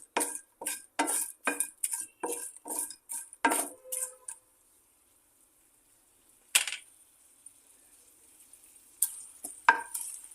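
Garlic, green chilies and curry leaves with a splash of soy sauce are stirred in a bowl, a quick run of about a dozen crisp spoon-on-bowl clinks, then quiet broken by a few scattered taps.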